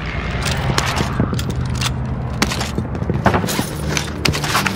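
Video game gunfire crackles in repeated sharp shots and short bursts, some close and punchy, others more distant, over a rumbling battle background.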